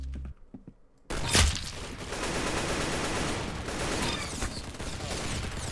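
Gunfire in the Roblox game Arsenal: after a brief quiet start, a sharp shot bursts in, then rapid, continuous automatic fire rattles on at a steady, loud level.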